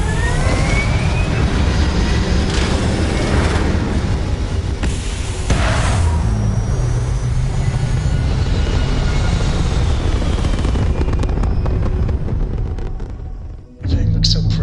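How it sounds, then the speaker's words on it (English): Rocket liftoff in a space-themed cartoon: a loud, continuous roaring rumble fills the whole span, swelling broadband with rising whistling tones, briefly dipping near the end before surging again. "Prepare for liftoff."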